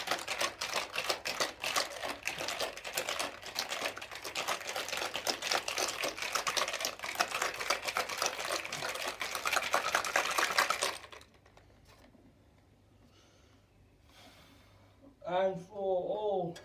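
Drink mixed with juice shaken hard in a container: a loud, dense, fast rattle that runs steadily for about eleven seconds, then stops abruptly, followed by near quiet and a short burst of speech.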